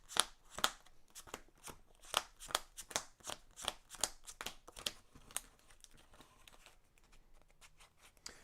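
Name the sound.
shuffling a deck of playing cards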